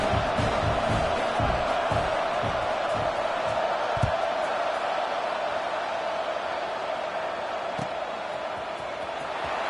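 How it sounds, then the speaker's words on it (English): A large football stadium crowd at a Texas A&M game gives off a sustained, broad roar after a touchdown, loud and steady throughout, with a few brief thumps in the first seconds. "that last score took a little oomph out of this crowd"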